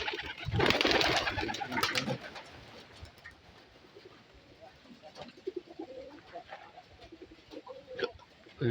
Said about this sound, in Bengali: কি সুন্দর ডাকতেছে কবুতরটি